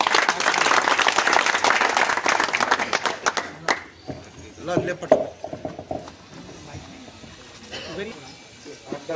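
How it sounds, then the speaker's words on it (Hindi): An audience claps loudly at a wedding-hall event, dense applause for about the first four seconds before it thins into scattered claps mixed with talking and handling noises. "आप लोग तालियों से उसका इस्तकबाल करें"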